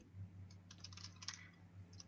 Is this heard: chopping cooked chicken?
no